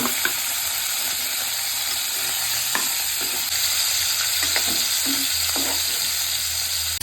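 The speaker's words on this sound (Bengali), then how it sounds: "এবার একটু তেল দিয়ে দেবো। ও চিকেনগুলো একটু কষিয়ে নেব।" Long strips of chicken fry in oil with a steady close sizzle, stirred now and then with scraping taps from a utensil against the pan; no speech.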